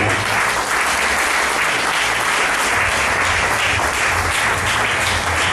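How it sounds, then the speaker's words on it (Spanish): Church congregation applauding during an evangelistic service, loud continuous dense clapping filling the room with a steady roar from start to finish. "Denle un aplauso a Cristo."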